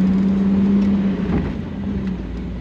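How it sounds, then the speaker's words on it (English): A 2000 Jeep Wrangler with a 5-speed manual drives along, its engine a steady loud drone with a humming tone that drops slightly partway through, no talk over it. "Let's go for a drive. Like I said, 5-speed manual."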